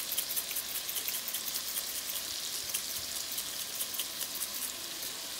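Meat seasoned with lemon pepper fries in a pan with a constant bright sizzle and fine crackling spatter throughout, close and even, with no voices.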